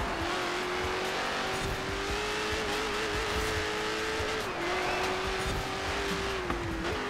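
A 1,123 hp Dodge Demon in Forza Horizon 4 slides with a steady, loud engine drone and tire hiss that runs unbroken throughout, its pitch wavering slightly as the car drifts.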